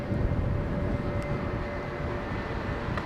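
A Lufthansa airliner at London Heathrow Airport gives a steady, loud jet roar with a faint whining tone held throughout, and no voices.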